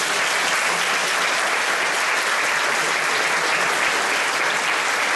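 Dense, steady applause from a large audience at an election convention in Izola, a loud unbroken wash of clapping that continues evenly throughout.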